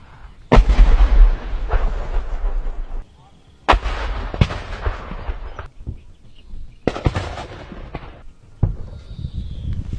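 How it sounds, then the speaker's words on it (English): Artillery strikes and explosions hit military positions, with several heavy booming blasts and sharp reports at irregular intervals, some rumbling on after impact, with quieter gaps between them. "The Russians are intensively bombing Ukrainian forces, preventing their infantry from raising their heads."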